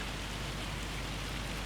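Hail falling in a survival video game set in Arkansas, a steady dense hiss of pelting ice like heavy rain on a surface, continuous and fairly loud with no voices.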